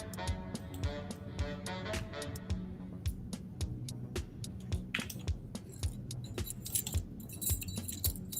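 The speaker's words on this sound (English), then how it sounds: "Somebody's jingling some keys or something." Keys jingle and clink near the microphone in quick, irregular metallic bursts throughout, like a small tambourine over a low background hum.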